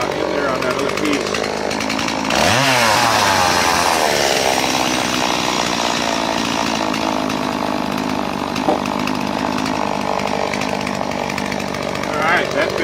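A chainsaw cuts into a wooden pole while building a pole woodshed, revving up sharply, then running loud and steady through the cut for over ten seconds, close by and sustained.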